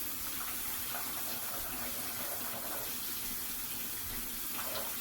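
Warm water pours from a kitchen tap for a batch of wheat bread dough, a steady hissing stream heard close and alone for several seconds.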